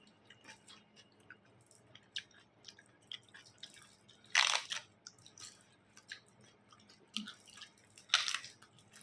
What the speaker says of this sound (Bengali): দিন পর পাঁপড়ও খাচ্ছি